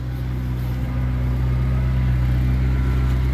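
A McLaren car engine idles close by, a steady low droning hum with a constant level and no revving throughout.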